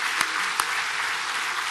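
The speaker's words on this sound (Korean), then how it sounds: "아름답게 생각되는 분 박수 한번 해주세요." A church congregation applauds during a service, a dense, steady burst of clapping filling the whole moment, with a couple of sharper claps standing out near the start.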